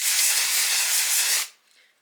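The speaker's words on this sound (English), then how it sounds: "So I will spray like right in my part here." Dry shampoo aerosol sprayed straight into a hair part, a loud steady hiss lasting about a second and a half before cutting off sharply, with faint rustling after.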